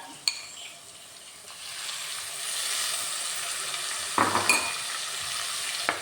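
Fish curry masala with chili powder paste and tamarind water sizzles softly in a pan, with a few sharp scraping stirs of a spoon against the pan over the steady low frying hiss.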